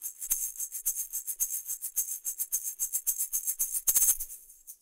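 An egg shaker, a small shaken percussion instrument, rattles alone in a steady run of quick crisp shakes for about five seconds, with a slightly stronger burst near the end.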